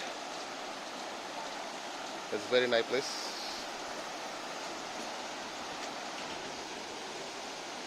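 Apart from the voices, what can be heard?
river water flowing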